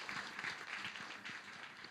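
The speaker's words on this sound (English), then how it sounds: "Shall we just give Dr. Chris a round of applause for now?" Brief, fairly faint applause at a symposium panel, scattered hand claps with audible individual strikes over a soft room background.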